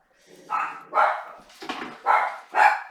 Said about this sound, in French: Je vais faire taire mes chiens.